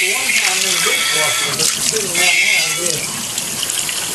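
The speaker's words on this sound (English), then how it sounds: "So we'll rinse the inside." Tap water runs steadily over a pot lid being rinsed in a kitchen sink, a close gushing splash while a voice talks over it.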